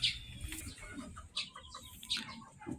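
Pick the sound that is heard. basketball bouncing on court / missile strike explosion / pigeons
pigeons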